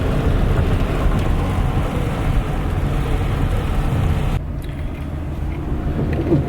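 Steady heavy rain pours outdoors in Kentucky turkey-hunting country, a dense continuous wash with low rumbling that suggests thunder, holding loud throughout and dropping slightly in level partway through.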